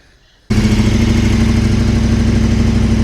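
A KTM 1290 motorcycle engine fires up abruptly after a short quiet moment and settles straight into a loud, steady, close idle with an even throbbing rumble and no revving.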